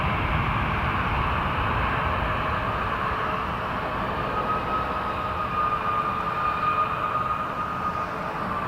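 A jet airplane taking off at Toronto Pearson gives a loud, steady roar with a faint rising whine, heard alone and sustained throughout.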